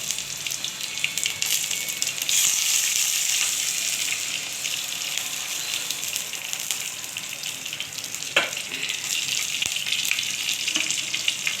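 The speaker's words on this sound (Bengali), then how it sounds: "তো এখানে পাঁচ ফোড়ন দিয়ে দিচ্ছি বেশ কিছুটা এখানে দিয়ে দিচ্ছি শুকনো লঙ্কা কাঁচা লঙ্কা তেজপাতাটা" Panch phoron with dried red chillies, green chillies and a bay leaf hitting hot oil for a Bengali telakucha greens dish, giving a loud, continuous close sizzle that swells slightly and then holds steady.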